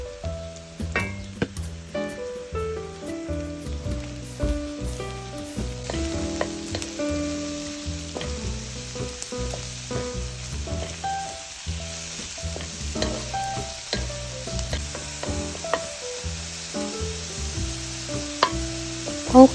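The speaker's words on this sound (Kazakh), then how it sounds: "Енді қозы құйрықты салып, шамамен 3-4 минут қуырамыз." Lamb tail fat frying in a pan gives a soft sizzle, with occasional stirring sounds, underneath louder background music that continues throughout.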